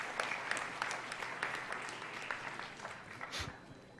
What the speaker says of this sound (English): A big round of applause to the newly graduates.